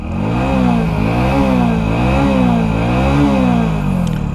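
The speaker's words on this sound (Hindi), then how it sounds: "इस मोटरसाइकिल का साइलेंसर कैसा साउंड करता है" A 2023 Hero Splendor+ XTEC motorcycle exhaust burbles loudly up close and is blipped repeatedly, its pitch rising and falling in quick waves over a steady throaty idle.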